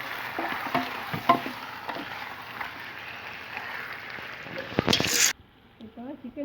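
Chicken pieces with salt fry in oil, giving a steady soft sizzle with occasional stirring clatter that cuts off abruptly near the end.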